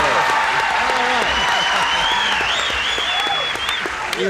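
Steady, loud studio audience applause filling the room, with a few faint voices and whistles mixed in under the clapping.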